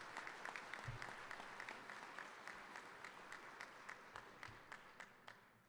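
Applause at a 2023 EMS awards ceremony for the health commissioner: steady, fairly distant clapping from a crowd, faint and even, with a few sharper individual claps standing out near the end.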